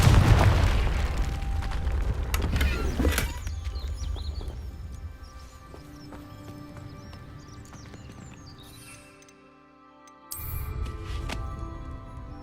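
A Confringo fire spell explodes in the video game Hogwarts Legacy, a loud burst with rumbling low end that fades into a quieter ambient tail, followed by a second sharp hit near the end.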